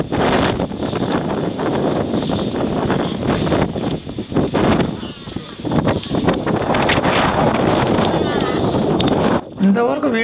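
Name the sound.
strong wind blowing on the camera during rain at Lonavala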